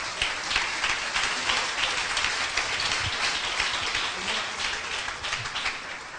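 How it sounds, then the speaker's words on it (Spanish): A church congregation breaks into loud, sustained applause, a dense steady clatter of clapping hands with no pauses over several seconds. "Un aplauso fuerte al Señor."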